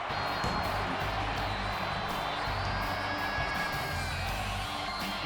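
A Dallas arena crowd in the WWE 2K16 wrestling video game roars and cheers at a steady, loud level, a broad continuous wash with whistles riding on top.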